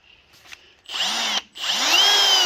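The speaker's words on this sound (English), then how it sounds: "set your drill if you do it this way" A power drill reams out a brake spindle while a Wilwood brake kit is fitted to a 1980 Oldsmobile Cutlass, two loud close bursts of high whirring with a short pause between, pitch sliding slightly as the bit bites.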